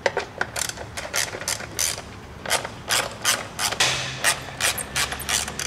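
A ratchet wrench clicks steadily as it loosens 8 mm side bolts on a Honda four-cylinder engine's air filter housing. Bursts of fast ratcheting repeat close to the microphone, with no talk.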